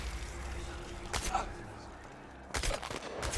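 Gunfire in the video game Chernobylite, during long-range kills through a thermal scope: two sharp, loud shots about a second and a half apart, each a short broadband crack with a brief tail.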